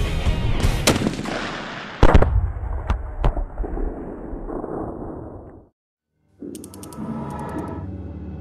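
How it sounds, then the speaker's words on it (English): Polish Army Tor 12.7 mm large-caliber sniper rifle firing, several sharp loud reports with echoing rumbling tails, a brief silence, then further distant booming. "destroying technical targets is a large-caliber Tor sniper rifle"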